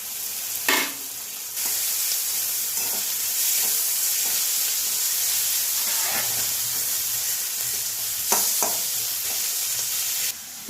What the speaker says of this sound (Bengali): একটু আদা বাটা দিচ্ছি